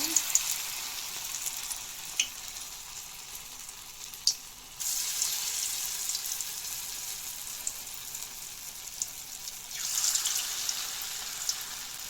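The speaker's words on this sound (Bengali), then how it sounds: "এখন গরম তেলের মধ্যে বড়াগুলা বানিয়ে নেব" Coriander leaf fritters fry in hot oil with a steady, quiet bubbling hiss. The sizzle swells briefly at a few points, and occasional faint clicks are heard.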